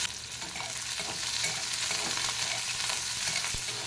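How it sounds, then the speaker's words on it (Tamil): Onions, green chillies and curry leaves fry in hot oil for rava upma, a dense, continuous crackling sizzle with soft stirring, close and steady with no voices. "சரி வதக்கலாம் பச்சை மிளகாய் கருவேப்பிலை போட்டுக்கலாம்"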